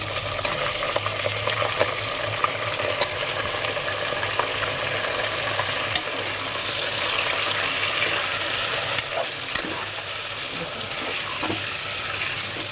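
Mutton frying in a pot with browned onions and coriander-cumin powder for Mumbai dal gosht, a steady close sizzle and hiss running throughout with no talk.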